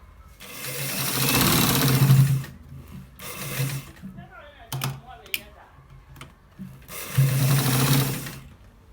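A sewing machine stitches a shirt collar in loud bursts of rapid mechanical chatter, with two long runs at the start and end separated by quieter stops, clicks and handling noises.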